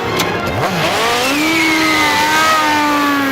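A motorcycle engine revving loudly in a scene from The Matrix, its whining pitch sweeping upward and holding steady as the bike accelerates, continuous and close.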